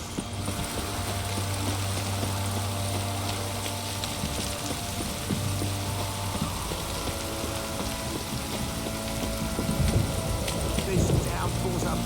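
A heavy downpour in The Witcher 3 video game makes a steady, broad hiss of rain, with voices and scattered game sounds over it.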